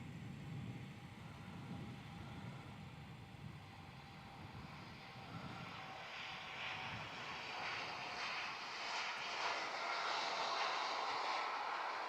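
An Air India airliner takes off on the runway at Melbourne Airport, its jet engines giving a broad, steady roar from a distance that slowly swells and brightens as the aircraft accelerates, with no voices heard.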